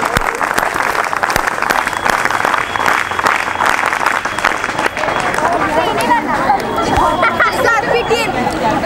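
Scout and guide group clapping together at an outdoor camp in a hilly forest area, a dense, steady applause lasting throughout with crowd chatter and shouting voices mixed in.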